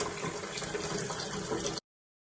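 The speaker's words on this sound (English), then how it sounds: "It is the tap running." A kitchen or bathroom tap running steadily, the hiss of flowing water close and even for under two seconds before it cuts off abruptly.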